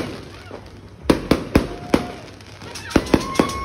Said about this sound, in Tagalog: manood ng fireworks pag New Year